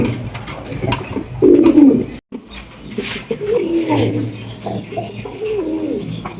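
A pair of black velvet shield pigeons cooing close by, several low throaty coo phrases rising and falling over a few seconds, with a brief gap and faint background noise.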